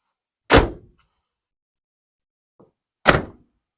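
The car door of a Honda Element converted into a camper shuts with a solid thunk, followed by a short quiet gap and a second firm closing thud about two and a half seconds later.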